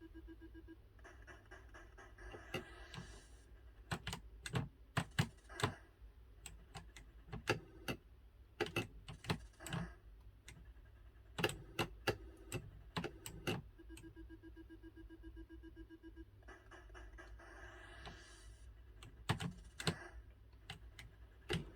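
Keys clattering on an MSX computer keyboard in quick irregular bursts with short pauses, close and fairly quiet, no voices.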